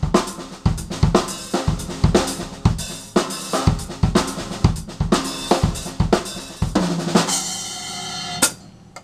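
A funk take on the Afro-Cuban Songo groove played on a drum kit, a busy linear pattern of single hits moving between kick, snare, toms and hi-hat, loud and close, ending in a cymbal wash.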